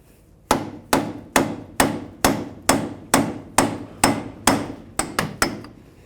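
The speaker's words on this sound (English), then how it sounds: "you might have to give it a couple loving bonks just to break it free" Hammer knocking a Ford Super Duty F-250 front hub assembly loose, eleven loud, close metallic blows at a steady rhythm, the last few coming quicker, with no talking.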